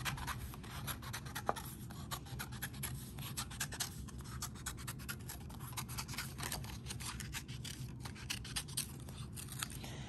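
Scissors cutting out a traced paper circle for a paper spiral craft: continuous close snipping and scraping strokes, steady and rhythmic, with no talk.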